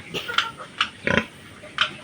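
Pigs in a backyard piggery grunting and oinking in several short, close bursts spread over a couple of seconds against steady background noise.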